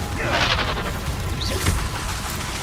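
A blasting fire spell bursts in the Hogwarts Legacy video game amid a dense, continuous barrage of combat booms and crashes, with a voice shouting spell names over the din.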